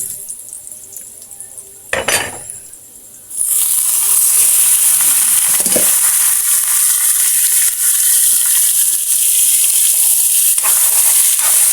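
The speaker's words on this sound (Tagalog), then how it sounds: "Ilalagay na natin yung ating chicken" Chicken pieces dropped into a hot pot for sinigang: a couple of knocks and clinks first, then a sudden loud, steady sizzle that continues close and bright with faint utensil clatter.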